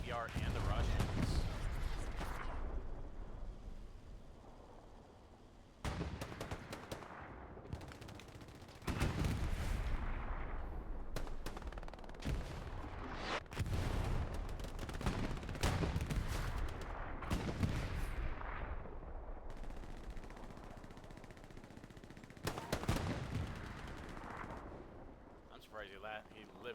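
Video game match with heavy artillery fire and gunfire, booming in repeated loud bursts with quieter gaps between them, while a voice talks over the battle.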